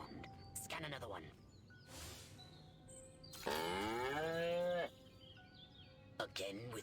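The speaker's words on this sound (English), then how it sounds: "Again with the moo." Cow in the Destroy All Humans game, a long, loud, drawn-out moo with strong harmonics lasting over a second, set among game effects and voices speaking before and after.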